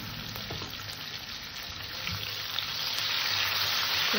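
Katla fish curry with capsicum, turmeric and salt frying in a pan, a steady close sizzle that grows slightly louder toward the end, with no talking.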